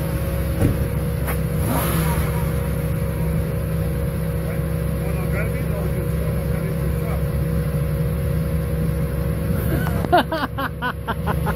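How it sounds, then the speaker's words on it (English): Parked car's engine running with a steady low idling hum throughout, ending in a short rapid burst of rattling clicks; faint voices are heard under the drone. "The car just started."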